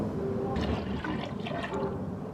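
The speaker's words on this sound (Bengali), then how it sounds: "আমি একটু পানি দিয়ে দেবো" Water is poured into a pot of rice with milk and coconut for palm-fruit payesh: a steady, close pouring and filling sound that holds for the whole stretch without a break.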